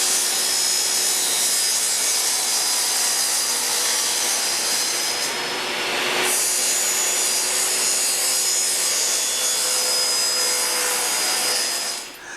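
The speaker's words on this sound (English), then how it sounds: "I need to go ahead and start cutting our track to size, and yes, I really am going to cut this on a table saw" A table saw cuts wooden track to size in a workshop, a loud continuous whining, rasping cut holding for about twelve seconds with a brief dip midway, no talking.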